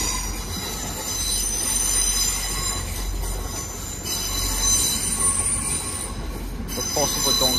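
Class 180 train passing through London Kings Cross, its wheels squealing with steady high-pitched shrieks over a continuous low rumble of the moving carriages, loud and close throughout.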